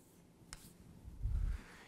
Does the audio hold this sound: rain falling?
no